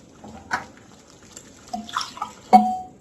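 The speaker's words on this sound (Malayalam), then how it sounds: "ഇനി ഇതിലേക്ക് ഈ ചൂടുവെള്ളം ഒഴിക്കുകയാണ്." Hot water poured into a pan of sautéed ingredients while cooking kalan, heard as a few short splashing bursts with quiet gaps between, close and moderately loud.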